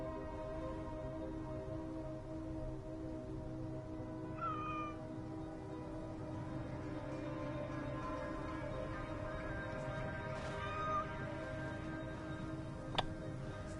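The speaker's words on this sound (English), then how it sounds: "Oh, pet the cat, come on." A cat in Assassin's Creed Origins gives two faint, short meows several seconds apart near the Sphinx. They sit over steady ambient game background sound, and there is a click near the end.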